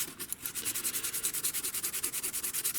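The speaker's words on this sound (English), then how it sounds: "you take for example a 320 grit sandpaper" A corroded circuit board being scrubbed with 320 grit sandpaper, a steady rhythmic back-and-forth rasp of about eight strokes per second, close and fairly quiet, with no talking.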